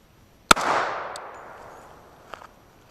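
A single sharp pistol shot from a stock RIA Ultra TAC firing a .45 Super 250-grain load rings out loud and close, then decays in a long echoing tail, followed by faint clinks.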